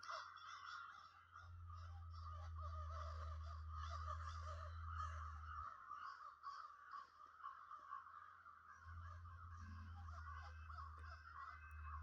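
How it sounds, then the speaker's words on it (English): A flock of crows calls with a continuous chatter of harsh, overlapping caws, moderately near and fairly steady throughout. A low droning hum sits underneath and drops out briefly in the middle. "Birds."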